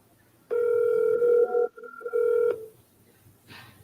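A telephone line sounds a steady tone for about two seconds, broken briefly in the middle, up close and alone, followed by a faint noise.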